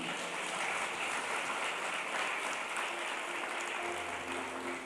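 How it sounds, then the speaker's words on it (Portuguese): Sustained applause from a church congregation fills the room at a steady, dense level throughout, with a faint tonal hum entering near the end. "Você pode aplaudir o Senhor Jesus?"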